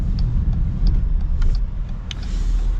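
A Jeep Grand Cherokee with a V6 engine cruises along a road, heard from inside the cabin as a steady low rumble of engine and road noise with faint ticks and clicks on top.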